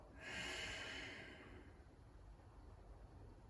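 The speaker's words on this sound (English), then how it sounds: "just releasing your breath out." A single slow exhalation during a calming meditation, a soft breathy hiss that swells early then fades into quiet room noise.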